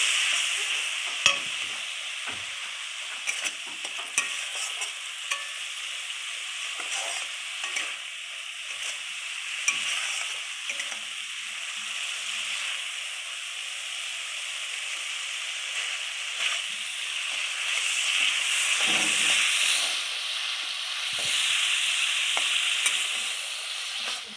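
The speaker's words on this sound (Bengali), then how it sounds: "আদা জিরা পেস্ট করা ছিল সেটা দিয়ে দিয়েছে মশলাটা। এবার কষিয়ে নিচ্ছে" A ginger-cumin paste and spices are sautéed in a pan with a little water, giving a steady hissing sizzle with frequent stirring scrapes and taps of a spatula throughout.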